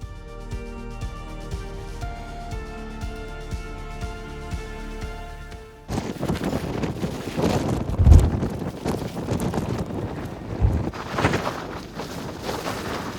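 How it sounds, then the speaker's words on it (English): Strong wind roars across the summit of Mount Wellington in gusty, close microphone buffeting, following a stretch of music. "the wind is starting and it's going to be ferocious at the top"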